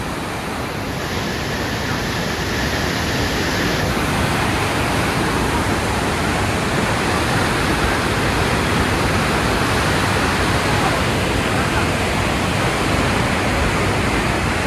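A river rushes loudly and steadily past at Manikaran in Himachal Pradesh, a continuous broadband roar of flowing water close by, with no break throughout.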